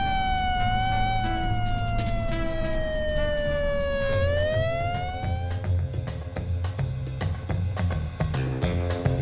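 A police patrol car siren wails during a chase, its pitch sweeping down and then back up, loud and close, over rumbling traffic with sharp bangs and clatter toward the end and no talking.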